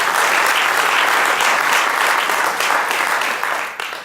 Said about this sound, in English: Let's give another round of applause for Mayor Helfrich